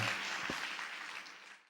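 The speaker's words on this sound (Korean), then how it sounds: "박수로 환영해 주시기 바랍니다" Brief burst of audience applause welcoming a teacher to the stage at a lecture on classroom drama, dense clapping that fades out within a second or two.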